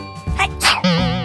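A person fakes two sneezes in quick succession, a short voiced burst followed by a longer breathy one, loud and close, during playful play with toy cars.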